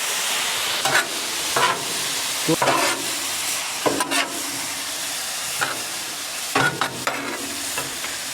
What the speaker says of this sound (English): So let's start turning this over.